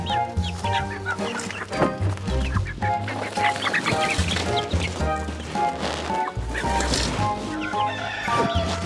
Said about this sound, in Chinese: 你干嘛又买小鸡啦？